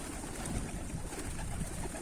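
Mardin pigeons cooing against a loud, steady wash of outdoor noise, the soft calls faint and blurred into the background with no clear individual phrases.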